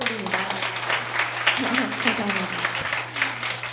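A seated congregation at a church blessing gathering applauds steadily throughout, a dense wash of clapping with a continuous low hum underneath while a voice briefly speaks over it.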